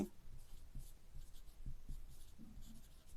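A pen writes an answer on paper during a Class 8 maths lesson, a series of soft short scratchy strokes in an irregular rhythm, close and faint, with no speech.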